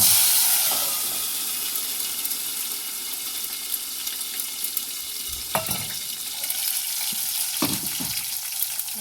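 Tomatoes go into hot oil with curry leaves, making a steady, loud sizzle and spatter that holds throughout, with a few clinks and scrapes of a utensil against the pan.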